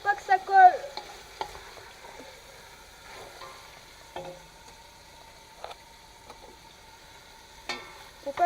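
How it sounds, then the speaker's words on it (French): Beef for bœuf bourguignon sizzles faintly in a pot while a utensil stirs it, leaving soft scattered scrapes and light knocks over a quiet frying hiss, close up. "la viande est en train de cuire un peu"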